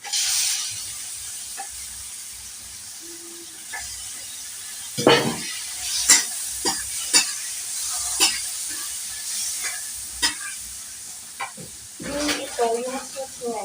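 Chicken sizzles and fries in a pan while being stirred, a steady hiss broken by sharp scraping clicks of the utensil against the pan, with a few brief voice sounds near the end.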